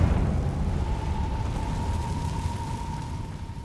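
A Confringo fire spell from the Hogwarts Legacy video game bursts with a loud rumbling blast at the start, then a sustained fiery roar slowly fades with a faint whistling tone running through it.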